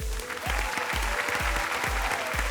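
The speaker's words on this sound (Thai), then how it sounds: "และขอเสียงปรบมือดังๆให้กับคุณบิ๊กด้วย" Game show studio audience applauding a contestant, loud dense clapping over a rhythmic thumping beat of music, continuous throughout.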